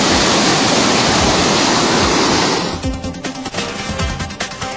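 A monsoon-flooded river in India, swollen by heavy rain and fast enough to sweep away an iron bridge, roars as a loud, steady broadband rush that shifts to a rougher, choppier churning partway through.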